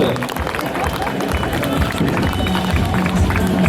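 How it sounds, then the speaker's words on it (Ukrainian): Crowd noise at a strongwoman event in Uzhhorod, a dense, steady wash of clapping and murmuring voices supporting a female competitor, with an announcer's voice mixed in throughout. "Підтримайте віку оплесками"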